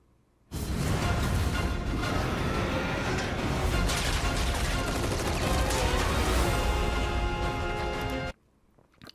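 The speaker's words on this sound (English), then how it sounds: "Shooting from all those machine guns, and they can't land a single hit on Cloud" Sustained, dense machine gun fire in a Final Fantasy VII Rebirth trailer, a loud continuous barrage lasting several seconds that stops abruptly.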